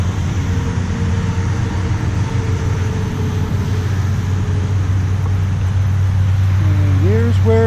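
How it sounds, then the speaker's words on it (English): Traffic noise from Main Street, right beside a lagoon park trail, forms a steady, loud, low rumble throughout, with a passing vehicle rising in pitch near the end. "Sorry for the traffic noise."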